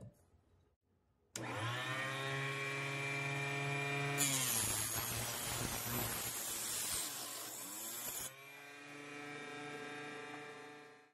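A blade saws through a brass rifle cartridge case for a Dutch Model 1871/88 Beaumont, with the case clamped in a jig against a vise jaw end stop. A loud, steady whining buzz runs throughout with no talk, growing harsher in the middle stretch.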